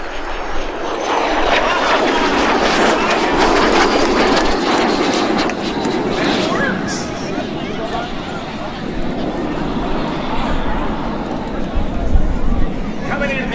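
An L-39 Albatross jet roars past at an outdoor airshow over Jones Beach, a loud, sustained engine rush that holds throughout, with a voice speaking over it.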